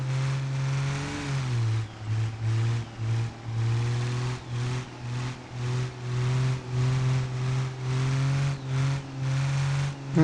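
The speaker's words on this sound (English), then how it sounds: "Spinning tires constantly." Truck tires spinning in the BeamNG driving game, a steady droning engine with a low wavering tone that pulses in rhythm as the wheels spin, continuous and close for the whole stretch with no talking.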